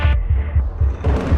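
Heartbeat sound effect used in a film sound-design edit: steady low thumping beats, about five evenly spaced pulses, loud and close over a droning hum with no talk.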